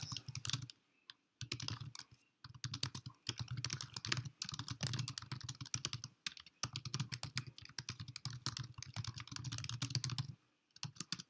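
Steady typing on a computer keyboard during a live class stream, with bursts of rapid key clicks broken by short pauses, close and fairly clear.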